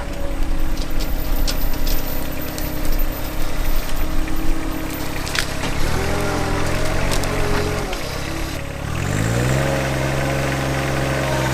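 A John Deere 1025R compact tractor fitted with a grapple runs loud and close at a steady rumbling idle, then its engine revs up and holds at higher speed to boost hydraulic flow.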